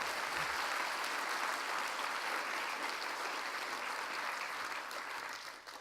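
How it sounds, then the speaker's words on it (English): Steady, dense audience applause at a conference session, sustained at an even level throughout before easing slightly at the very end; no voices stand out. "Dan and Jane. Big applause."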